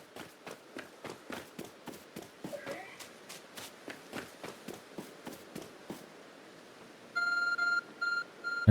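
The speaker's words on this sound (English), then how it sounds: "There's a glowing beeping object over there." Repeated electronic beeping from a glowing object in the video game Pokémon Legends: Arceus, a steady pulsing tone near the end following a run of rhythmic footstep-like taps.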